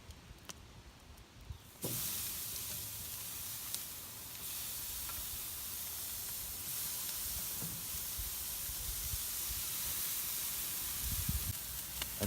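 Pork roast searing on a grill with cherry wood chips, a loud steady hiss that starts abruptly partway in and continues, with a few faint clicks and knocks.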